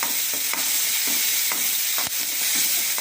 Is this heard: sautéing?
yes